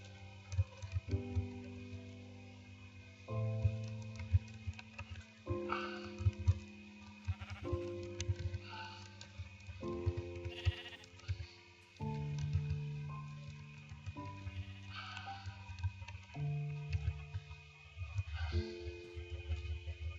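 Repeated sheep bleats from the Minecraft video game ring out at a steady pace, each a short wavering pitched call, over a faint background hum with no talking.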